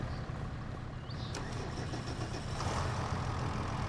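A tractor engine in the Farming Simulator 25 video game cranks and catches, a short starter burst followed by a steady mid-pitched idle that grows slightly louder near the end, with no talk over it.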